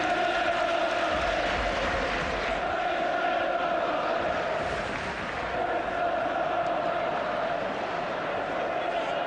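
A large football crowd at Manchester United versus Blackburn Rovers keeps up a continuous, distant roar and chant, with a commentator's voice talking over it.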